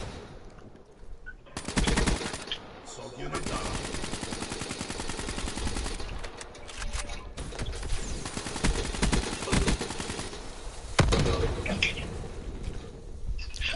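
Video game gunfire in rapid bursts, with sharp automatic volleys and scattered single shots close and loud across the whole stretch, with brief pauses between the salvos.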